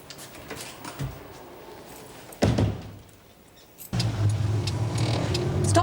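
A car engine idles and runs, with a soft rumble, a door thunk partway through and louder engine noise at the end, while a voice speaks briefly.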